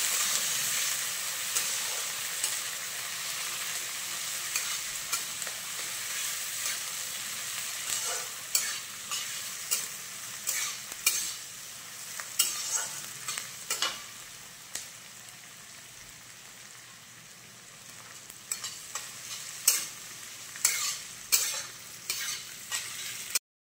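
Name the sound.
chopped onions frying and being stirred in pan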